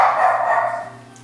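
A dog barking indoors, one drawn-out, loud, close bark or yowl that fades away.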